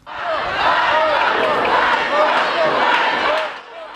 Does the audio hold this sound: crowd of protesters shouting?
yes